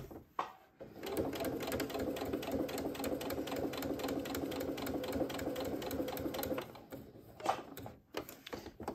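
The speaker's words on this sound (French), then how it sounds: "Je vais faire une petite couture en diagonale." A sewing machine stitches a short diagonal reinforcing seam on a fabric bag, running steadily and close for about six seconds with a rapid even rhythm, bracketed by brief handling clicks.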